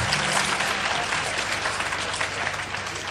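An audience claps steadily at a comedy show, a dense, even round of applause that holds at a constant level throughout.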